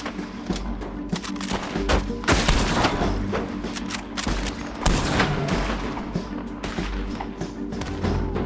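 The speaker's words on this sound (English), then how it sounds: "Where are them shots coming from?" Gunfire rattles in Red Dead Redemption 2 during a shootout with lawmen in the hills, with repeated loud booming shots and bursts overlapping in a dense, echoing fusillade, some close and some farther off.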